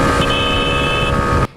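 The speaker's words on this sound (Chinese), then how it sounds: "两车贴得很近，还大力按喇叭警示。" A car horn blares in one long continuous honk for over a second on a road, loud and close, then cuts off abruptly.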